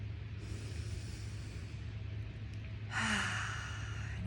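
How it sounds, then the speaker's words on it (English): A single person takes a slow deep breath, drawing air in softly and then releasing a louder, airy exhale near the end, close and alone. "let's just take a deep breath"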